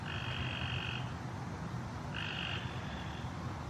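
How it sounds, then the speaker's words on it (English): A frog croaks twice in the background of a quiet garden, each call a steady buzzing trill of about a second, spaced apart over a constant low outdoor hum. "You can hear the frog in the background"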